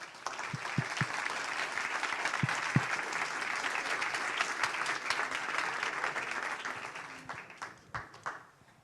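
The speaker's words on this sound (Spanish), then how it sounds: "Le damos una bienvenida y un fuerte aplauso a Augusto." A strong round of applause from a conference audience welcoming a speaker, sustained dense clapping with a few sharp louder claps near the start that tapers off with scattered final claps.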